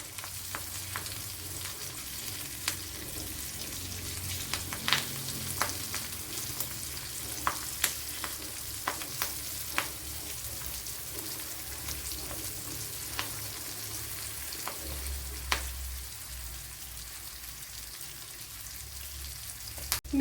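Dried mackerel sizzles and fries in a pan with curry leaves, giving a steady crackling hiss broken by scattered sharp pops and occasional stirring, close and moderately loud, with no talking.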